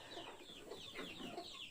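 A rooster clucks in a run of short, repeated calls after being caught during a friends' outdoor picnic, with the bird close and steady throughout and rustling around it.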